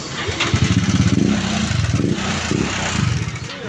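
A Mio Sporty scooter engine bored to 160cc and fitted with a flat-slide carburetor runs loud and close in a garage. Its throaty, pulsing exhaust roar holds steady, with slight rises and falls in revs.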